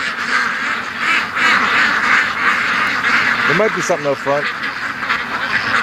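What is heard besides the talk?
ducks quacking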